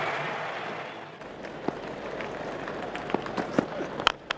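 Cricket stadium crowd at a Pakistan versus West Indies match, a distant broad roar of cheering with scattered claps and shouts rising toward the end, moderately loud and continuous.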